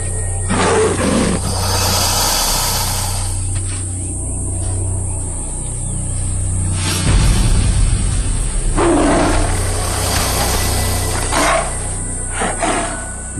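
A tiger attacking a crocodile gives loud, rumbling roars and growls that swell and fade over a constant insect-like hiss of wild surroundings, with no voices.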